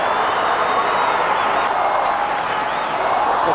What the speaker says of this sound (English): The crowd is roaring for the Hawks